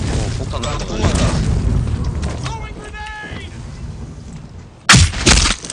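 A bomb detonating in the Black Squad shooter game lands as a sudden loud blast with a crackling tail near the end, following a stretch of players talking over game noise.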